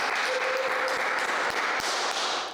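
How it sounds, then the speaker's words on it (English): An audience applauds a guest on a podcast, sustained and fairly loud dense clapping with a few cheers, continuous throughout. "Let's give a hand of applause for Son of 215."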